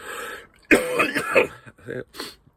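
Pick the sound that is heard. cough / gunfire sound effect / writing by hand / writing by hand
cough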